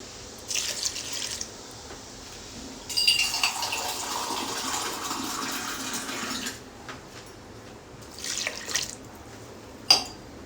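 Water splashes in several separate bursts as three glasses are poured into a pot of washed chana dal and toor dal with turmeric, quiet and close, with no talking.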